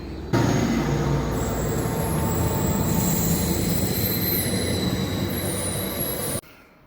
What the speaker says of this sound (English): the train is about to leave here